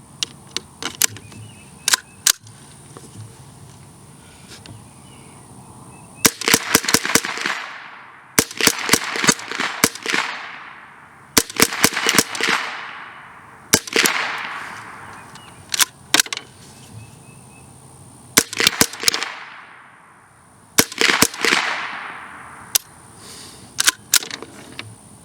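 CMMG .22LR rounds fired from an AR-15 with a Rise Armament RA434 trigger, sharp close cracks in quick bursts of several shots with pauses between, each followed by a short echoing tail.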